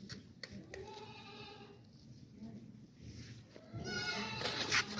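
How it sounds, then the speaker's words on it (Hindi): A goat with her kid bleats at a livestock market, giving a few quavering, moderately close cries near the start and a louder, longer bleat toward the end, with quiet background chatter. "बच्चे वाली बकरी है माशाल्लाह से"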